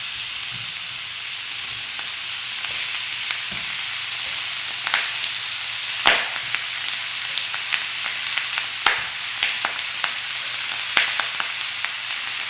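Pork belly (liempo) sears in its own rendered fat in a pan, a steady bright sizzle with crackling spits and pops scattered throughout, close and continuous with no talking.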